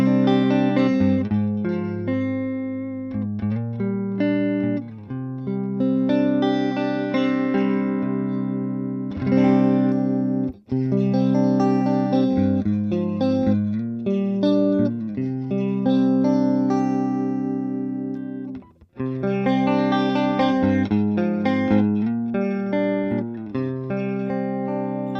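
An electric guitar plays through a Lombardi LC8 amplifier and a Dual Overdrive pedal, giving sustained, driven chords and phrases that ring on for about 25 seconds. Two brief gaps break the playing, and no one speaks.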